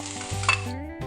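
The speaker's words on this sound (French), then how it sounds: "Rapidement, je mets les lardons." Lardons hitting a hot pan in the middle of making a beetroot and courgette tart, a steady close sizzle with a brief stirring clatter partway through.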